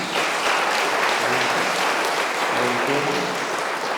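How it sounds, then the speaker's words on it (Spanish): Congregation applauding during a Mass in a church, a dense steady wash of many hands clapping at once with a faint murmur of voices beneath. "un aplauso para también un día más"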